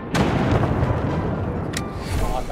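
A grenade explodes in a video game, a loud booming blast that fills the whole moment with rumbling low-end debris, a sharp crack partway through, and voices faintly mixed in.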